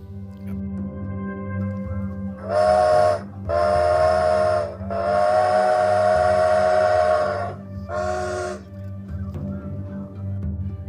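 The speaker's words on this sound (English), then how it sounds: "I can hear the steamer whistle." A steamboat whistle, the steamer Wadana, sounds in four long, loud blasts, the third held longest, over a low mechanical rumble.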